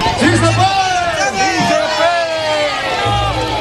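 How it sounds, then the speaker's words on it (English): Several thousand farm workers and supporters march and rally in Delano, California, producing a loud, dense crowd hubbub of many overlapping voices with occasional shouts rising above the babble throughout. "The crowd amassing to several thousand as workers from all around the state rallied to protest"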